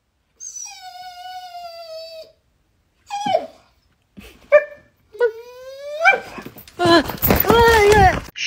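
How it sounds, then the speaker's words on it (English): A dog whines in long drawn-out tones, then gives short yelps and whimpers that build into rapid, loud, strained barking close by. "Show me that bad dog"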